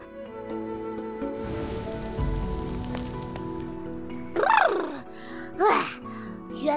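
Rain falls in a fantasy scene from the video game Vong Xuyen Phong Hoa Luc, a soft steady patter on surfaces under gentle music, with brief voiced gasps or sighs near the end.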